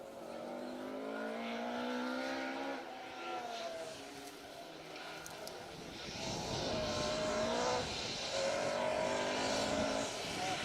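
Mark I Ford Escort rally car at a Trackrod Rally stage, its engine rising and falling in pitch as it revs and passes, loud and fairly close, with a commentator talking over it.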